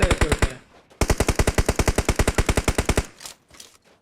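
Rapid automatic gunfire in a battle royale video game, a loud short burst followed by a long sustained stream of evenly spaced shots, then a few scattered trailing shots.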